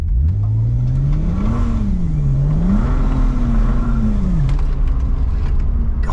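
A car engine with an 8-speed gearbox and turbo revs hard during wheel spins, its pitch climbing and dipping in surges, loud and close.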